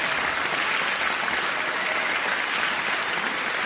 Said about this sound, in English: she deserves a warm round of applause, don't you think?